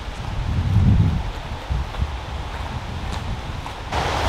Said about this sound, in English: Holy moly, is it windy on 302 right now.